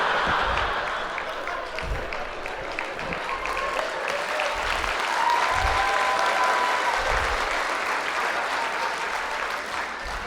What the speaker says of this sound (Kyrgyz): Бүт банкрот болгондор кол чабып атат да